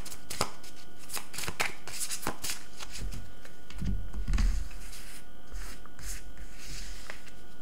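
Tarot cards are shuffled at close range for a seven-card spread, with quick riffling flutters and soft slaps of the deck, then a brief low rustle as the cards settle.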